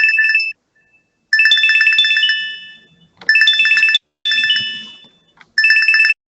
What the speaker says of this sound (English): It sounds like we might have a phone ringing somewhere on this panel.